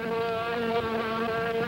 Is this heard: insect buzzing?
yes